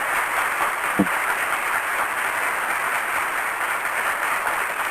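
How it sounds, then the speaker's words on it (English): An audience gives interview guest Demond Wilson a sustained round of applause, thick and even clapping holding at a constant level for about five seconds. "you can't go anywhere without giving you a good round of applause"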